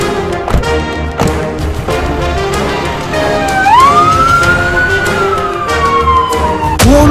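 An ambulance siren wailing as the ambulance departs, loud and close, its pitch sweeping up and then sliding slowly down, with sharp knocks and bangs around it.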